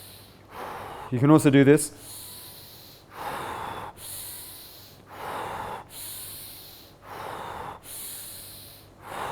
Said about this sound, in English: you breathe in and out in a rhythm, okay, like this.